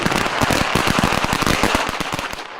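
Rapid, irregular bursts of exploding fireworks and firecrackers in Butte, loud and close, crackling densely for over two seconds before thinning out.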